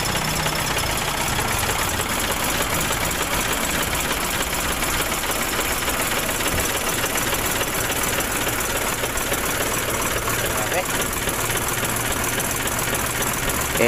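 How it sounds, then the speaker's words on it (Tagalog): An Isuzu 10PD1 diesel engine, leaking oil at the dipstick, runs at a steady idle, loud and close with a continuous rattling, knocking drone throughout. "Isuzu 10 PD1 engine."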